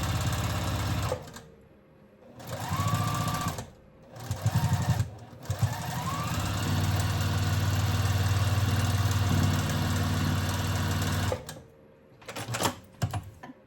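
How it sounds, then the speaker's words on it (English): A home sewing machine stitching small fabric scrap strips into a crazy quilt block whirs in bursts, a few short runs then one long steady run, close and loud, with brief pauses between. "let's sew this little sliver on"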